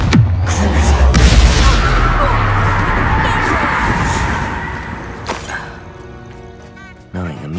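Casting the Confringo blasting curse in Hogwarts Legacy unleashes a loud, close explosion that booms and rumbles at the start, then trails off into a fading roar, with a sharp crack near the end.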